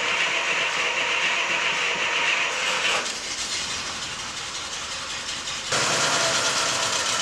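An engine on a car just fitted with a custom radiator cranks and then runs steadily, a broad hissing roar with abrupt shifts in level partway through, no voices.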